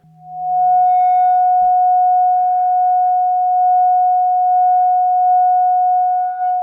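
Singing bowl resonating as one steady pure tone around 730 Hz, sustained loud and unbroken for several seconds after a brief low hum and a soft knock at the start.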